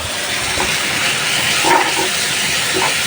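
Spices fry for a Bangladeshi beef curry, giving a constant loud sizzling hiss that stays steady and close the whole time.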